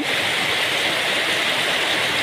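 Rainwater pours steadily into a drum set out to catch it, a dense, continuous hiss and splash of falling water that stays loud and even throughout, with no voices.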